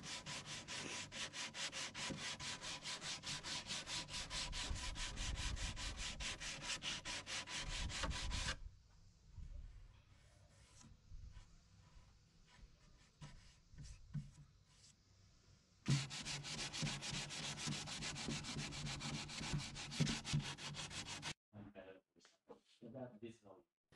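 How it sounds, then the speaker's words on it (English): Painted wood on an old Queen Anne dressing table being sanded back to bare wood, a steady rasping rub that runs for several seconds, breaks off, then starts again loud and close. "I ended up just sanding it all off"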